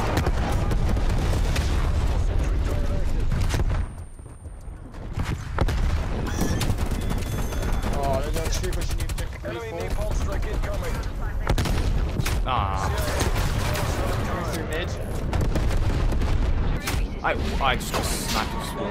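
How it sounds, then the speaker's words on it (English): A napalm strike in Call of Duty Black Ops Cold War sets off a loud, dense barrage of explosions and gunfire rumbling almost without pause, briefly dropping off before surging again, with voices talking over the chaos. "Napalm strike inbound."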